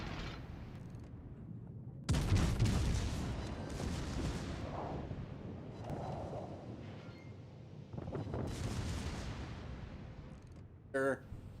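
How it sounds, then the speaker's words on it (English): Warship secondary guns firing in a naval combat video game, a few loud booming blasts with rumbling tails, the biggest about two seconds in, then a smaller later burst over low background rumble. "Allow me to shoot secondaries at you."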